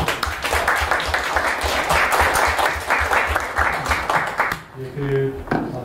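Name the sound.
audience applause after a seminar presentation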